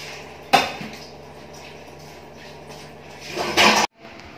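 Vegetables, including eggplant, being washed in a home kitchen, with dishes and a pan clattering, a sharp knock at the start and a louder rush of rinsing and handling near the end before it cuts off.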